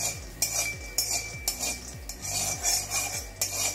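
A spoon stirs peanuts dry roasting in a kadhai over a low flame, giving repeated scraping clinks of metal on metal in a steady rhythm, close and fairly loud, with no talking.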